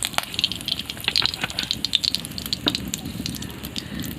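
Mustard oil sizzles in a hot pan with a steady, fairly quiet crackle of small pops and hiss throughout.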